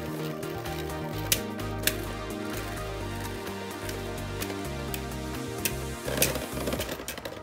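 Lego-built spinning tops, Apollos against Artemis, clash in a Lego Mugen stadium, a run of sharp clicking and rattling impacts with a few louder knocks over a steady whirring hum.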